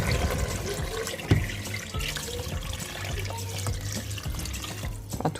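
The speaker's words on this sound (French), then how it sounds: "Donc je vais recouvrir totalement d'eau." Tap water runs steadily into a Cookeo electric pressure cooker, filling it over bone-in meat pieces for couscous, a continuous close pouring and splashing with small clunks and no talking.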